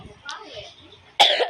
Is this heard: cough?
yes